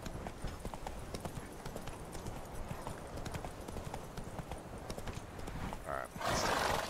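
Hooves clip-clop in a steady rhythmic trot as a horse is ridden in The Witcher 3, fairly prominent and continuous, with a louder burst of sound near the end and a person talking faintly over it.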